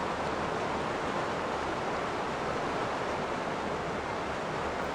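Steady, loud broadband rush of a river's running water beneath a stone bridge in the Heaven's Vault video game, continuous and unbroken with no talking.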